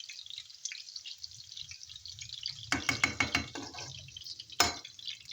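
Boiled leafy greens squeezed by hand to press out water, giving a run of wet squelching and dripping bursts, then one sharp splash near the end over a quiet kitchen background.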